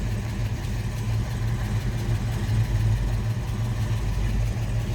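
A 1970 Ford Mustang Boss 302 V8 idles steadily from behind the car, a continuous low rumble with mild engine roughness and no revving.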